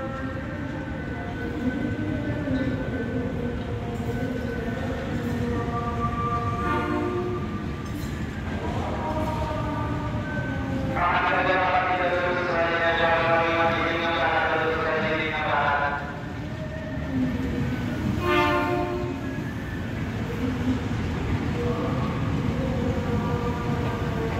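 Steady rumble and rattle inside the rearmost carriage of the KA Menoreh train from Jakarta to Semarang, with rhythmic clatter over the rails and occasional brighter metallic squeals rising and fading.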